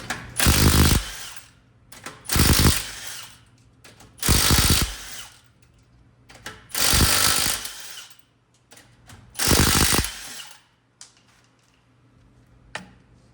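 A power tool spins off the 19 mm front wheel lug nuts on a Subaru, firing five loud, separate bursts of rattling impact and whirring, each about a second long with short gaps between them.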